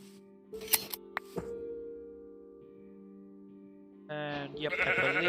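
Minecraft sheep being sheared in the game, a few crisp snipping clicks and a steady bleating tone, followed by a louder burst of blocky game sound effects, no talking.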